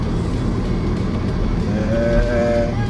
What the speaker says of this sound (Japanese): マフラーボーボー言ってるのにさ